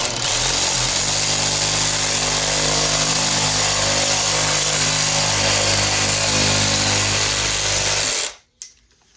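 Battery-powered saw cutting through plastic on a Lifetime Manta kayak scupper, a loud close continuous motor whine with a grinding buzz held for about eight seconds, then cutting off abruptly with a brief trailing rattle.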